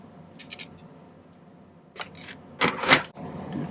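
Snips and clicks of cutters trimming silver wire to length at a silversmithing bench come as a few sharp metallic cuts, quiet early then louder toward the end, with no talk.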